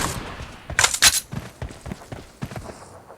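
Sniper rifle shots in the mobile shooter Battlegrounds Mobile India, two sharp loud bursts close together near the start, followed by softer thuds and clicks of in-game movement and reloading.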